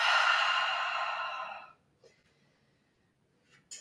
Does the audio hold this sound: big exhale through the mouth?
yes